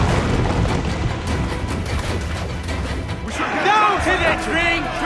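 Ship cannons firing in Assassin's Creed IV Black Flag, heavy booms and crashing impacts over a busy battle din, followed by shouted voices of the crew.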